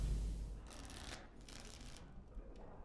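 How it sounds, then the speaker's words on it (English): Playing cards shuffled during a card game in Dragon Age: Origins, with two dense riffling bursts of papery rattle at moderate level over a low background hum, no talk. "Before we start, the cards must be shuffled."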